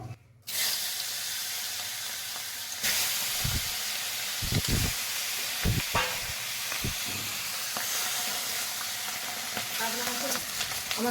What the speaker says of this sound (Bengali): আমি এরপরে সর্ষের তেলটা দিয়ে দেবো মাছের মাথাগুলো আমি ভেজে নেবো